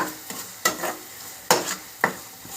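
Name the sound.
food being stirred while frying in pan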